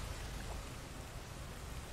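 Heavy rain from the video game Rain World Downpour, a steady dense hiss of downpour that fills the whole stretch, even and unbroken, with no voices.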